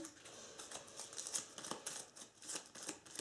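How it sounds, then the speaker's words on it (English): A stack of game cards being shuffled makes soft, rapid riffling and flicking clicks in quick bursts, faint and close, with no talk over it. "we shuffle them and we stack them face down under the Lonely Mountain"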